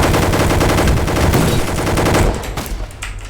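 Loud rapid automatic gunfire from the Roblox game Gunfight Arena rattles continuously for over two seconds, then breaks into a few scattered shots before fading out.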